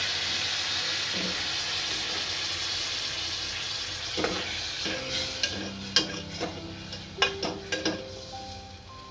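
Onion paste heating in a hot pan gives a low steady sizzle, joined later by several sharp clinks and scrapes of a utensil against the pan, close and moderately quiet.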